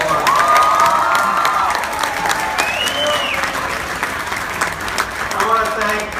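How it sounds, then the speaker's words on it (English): A crowd at a victory celebration for Ro Khanna in California's 17th district breaks into loud sustained applause and cheering, with whoops and shouts rising over steady clapping throughout. "Let's give them another round of applause"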